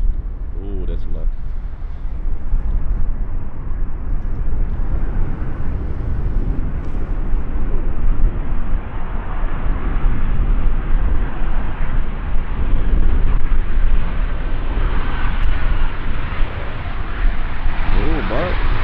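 An airplane on a crosswind landing at Schiphol Airport runway 18R gives a loud, broad engine roar with wind rumble that holds for the whole stretch, while people talk over it.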